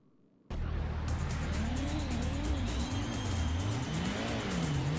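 Race cars in the Gran Turismo PS1 video game start from silence with a sudden engine roar, revving and changing pitch as they accelerate off the line, loud and continuous.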